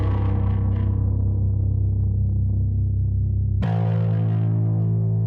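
A heavily distorted bass note drones loudly and continuously, then is struck again, giving a thick, buzzing tone that sustains to the end.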